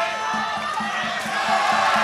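A crowd cheers and roars at a Muay Thai title fight, with a loud, continuous wall of shouting and a faint rhythmic thump beneath it.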